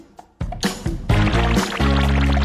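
Water poured into a drinking glass for washing down spicy chip pieces during an eating challenge, a close, loud, steady pour that starts with a few splashes and settles into a continuous filling stream.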